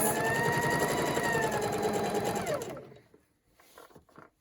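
A sewing machine stitches a Christmas table runner, its fast steady motor whir and needle chatter running loud and close for nearly three seconds before stopping, leaving a few quiet handling sounds.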